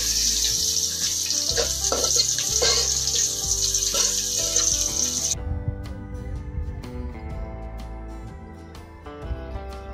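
Chopped garlic sizzles in a hot pan with a steady, bright hiss for about five seconds while being stirred, then gives way to quieter kitchen clinks and tonal sounds.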